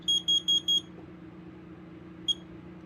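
A Kidde KN-COB-DP-10YB carbon monoxide alarm being tested gives four quick, sharp, high beeps in a row. After a quiet gap, one more beep follows, loud and close.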